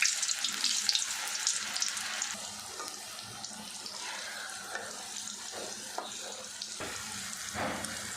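Okra (ladies finger) pieces frying in oil over medium flame, a continuous hissing sizzle with light bubbling and crackle, close and steady throughout.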